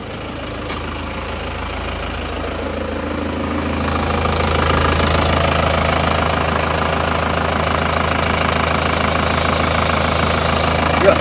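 A diesel Isuzu Panther car engine, recently overhauled and without a catalytic converter, idles steadily nearby with a low, knocking rumble that grows slightly louder partway through, with no talking.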